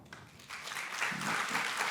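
An audience at a comedy show applauds, a soft wash of clapping that builds and grows denser toward the end, heard from a distance.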